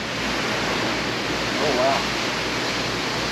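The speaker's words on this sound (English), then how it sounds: "Raining, storming." Steady, dense roar of heavy rain fills the background, with a brief spoken exclamation partway through.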